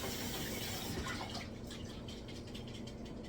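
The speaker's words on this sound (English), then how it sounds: "And I'll just go ahead and dump out the water." Water poured out of a container into a kitchen sink, a steady rushing splash that runs throughout and thins slightly toward the end, heard close with no talking.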